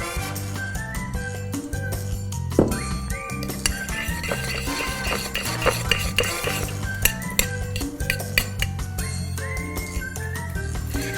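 Braciole filling of bread is stirred together with added oil in a bowl, with close, busy scraping and clinking of a utensil against the dish in an irregular rhythm, no voices.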